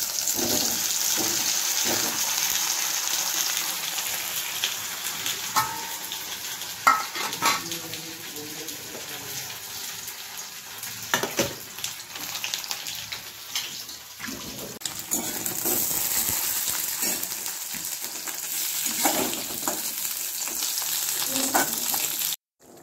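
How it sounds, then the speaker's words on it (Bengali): Tempering spices sizzle loudly in hot oil poured into boiled dal, a continuous close frying hiss with occasional stirring clinks of a utensil against the pot. "সিদ্ধ ডাল ছিল, তো ফোড়ন দিলাম"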